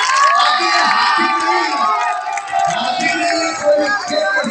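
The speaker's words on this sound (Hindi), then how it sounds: "सभी लोगों को एक जोरदार तरीके से ताली बजाना और हाथ खड़े करना" A large crowd at a BSP municipal election rally in Thane claps, cheers and shouts in a loud, continuous roar, with voices whooping and a few children's shouts mixed in.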